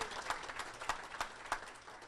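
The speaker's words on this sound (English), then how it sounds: "Let's give you all a big round of applause for that and for your service." Applause at a D-Day 70th anniversary luncheon honoring veterans at an oyster bar, a sparse, fairly faint scatter of claps with a few distinct louder hand slaps spaced out over two seconds.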